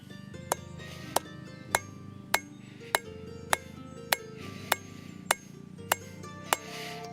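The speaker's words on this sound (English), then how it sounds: "I've got this hammer here, and my idea is I hopefully will be able to hit it on the edge" A hammer strikes the edge of a forged steel drawknife about a dozen times at an even, unhurried pace, each blow ringing with a bright metallic ping.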